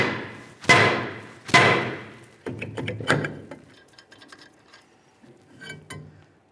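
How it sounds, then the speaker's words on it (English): Two sharp metallic strikes from a hammer on a Ford Ranger rear brake rotor ring out close by, followed by a few lighter clanks and knocks, with quiet gaps between. "carefully using a hammer will cause some vibration and break this free"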